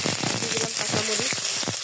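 Green chilies hit hot oil already used for frying fish and eggs, with fried onions in the pan, giving a steady crackling sizzle throughout along with a voice talking over it.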